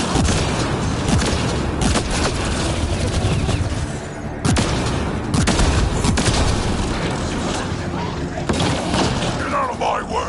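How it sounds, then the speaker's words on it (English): Rapid video game gunfire from a PS4 shooter, dense and continuous bursts with booming impacts throughout, loud and close, with players talking over the shooting. "Shooting as fast as I can!"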